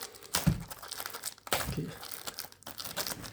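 Paper wrapping on a card display box crinkles and tears in a few close, sharp bursts, with one brief spoken word.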